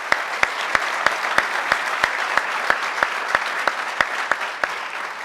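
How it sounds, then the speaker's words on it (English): Audience applause at a law school induction ceremony forms a dense, steady wash of clapping, punctuated by a regular series of sharp, loud claps from one nearby person, with no voices. "So a big round of applause for all of them."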